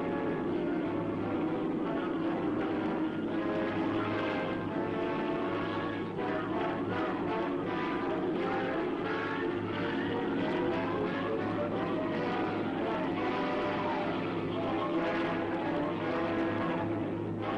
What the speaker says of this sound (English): Royal Air Force and U.S. Army planes flew side by side in the great bombing raid.